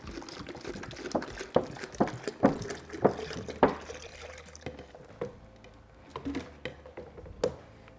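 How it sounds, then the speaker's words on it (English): Water, six cups of it, being added to a jar of strained cucumber, lime and pineapple agua fresca: soft liquid sloshing and gurgling with irregular drips and small clinks, close and fairly quiet, with no talking. "we're going to add our 6 cups of water"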